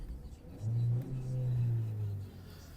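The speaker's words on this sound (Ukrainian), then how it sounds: "Двигун запускається гарно, помилки відсутні, оберти не плавають." A Volkswagen Touran engine with an automatic gearbox turns over and settles into a steady, even idle, a low hum holding for a couple of seconds before fading slightly.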